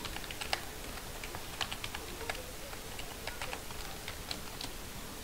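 Someone types a password on a computer keyboard, producing faint, quick, irregular key clicks in a quiet room.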